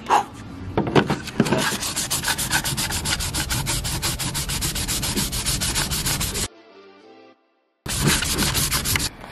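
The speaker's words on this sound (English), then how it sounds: "So let's start sanding." Sandpaper rubbed rapidly back and forth on a car grill for a custom LED Nissan Silvia project, a dense rhythmic rasping close up that stops abruptly, followed by a brief pause and then resumes.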